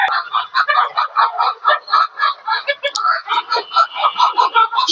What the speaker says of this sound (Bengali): আরো মুরগি আছে, ওগুলোকেও ভ্যাকসিন করতে হবে